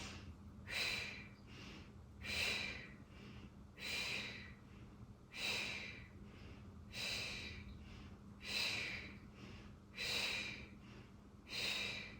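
Slow, steady breaths during a postpartum chair workout, about eight paced inhale-exhale cycles with airy, rhythmic rushes heard close and alone over a faint hum.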